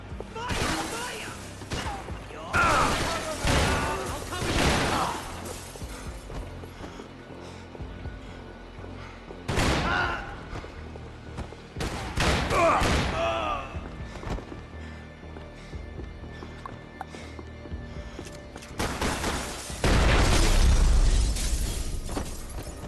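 Gunshots and bursts of violence in Max Payne 3, the crime action video game, sounding as loud sharp impacts scattered through the scene, with several spread-out blasts over game dialogue and music.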